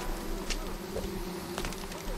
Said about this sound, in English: We just keep getting mauled by bees.